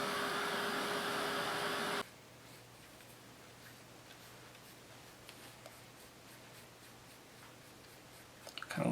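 A heat drying tool blowing on ink on a craft tag: a loud, steady broadband whoosh for about two seconds that cuts off abruptly, followed by quiet room tone with faint ticks and light handling noises.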